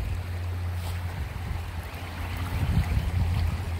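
Rushing floodwater after two days of rain flows continuously with a low rumbling churn, steady and fairly close, with no voices.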